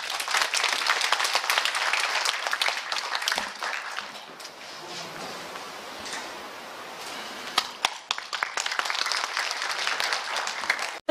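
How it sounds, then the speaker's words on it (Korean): Audience applause for two officials stepping onto the stage at a Gangwon Special Self-Governing Province briefing in Yangyang County. Sustained dense clapping from a crowd fills the room, dipping briefly in the middle before swelling again. "여러분 큰 박수 부탁드립니다."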